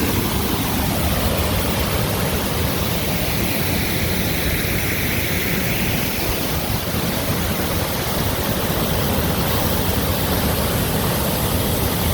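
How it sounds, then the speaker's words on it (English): A waterfall near Mendenhall Glacier in Juneau, Alaska, roars as a steady, dense rush of falling water that stays loud and unchanging throughout, with no voices. "Here's the waterfall over here."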